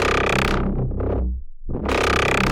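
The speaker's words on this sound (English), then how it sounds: "We can just keep adding distortion" A heavily distorted trailer-style bass built in Serum 2 with a Volcano filter roars in two loud, gritty bursts separated by a brief dip, its filtered tone sweeping as it swells.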